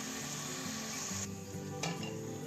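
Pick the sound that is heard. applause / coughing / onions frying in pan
onions frying in pan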